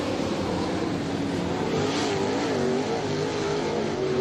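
Late model dirt race cars run hot laps with the Lucas Oil Late Model Dirt Series at Batesville Motor Speedway, a steady loud engine roar with a rising and falling pitch as the cars circle the track, and no talk.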